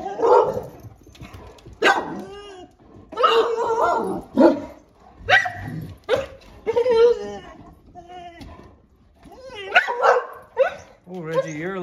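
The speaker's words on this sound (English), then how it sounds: "Reggie, you're a little hunting dog, aren't you" A Great Dane on an organic lawn barks at a bunny in loud, close bursts of barks and yips, with whimpering whines in the gaps.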